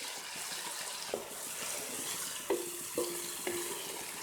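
Tomatoes and green chillies fry in a pan for biryani with a soft, constant sizzle, punctuated by a few sharp clinks of a spoon striking the metal.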